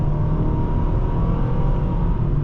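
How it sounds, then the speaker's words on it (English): A 2023 Nissan Sentra SR engine accelerates with a steady, droning whir that holds a constant level throughout, heard from inside the car with no talking. "this engine is about as loud as the Civic"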